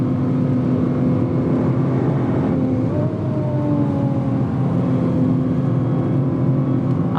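A 2017 Nissan GT-R with a titanium exhaust runs at Spa-Francorchamps in the rain, its engine droning steadily and loudly with shifting tones, near and continuous throughout with no talk.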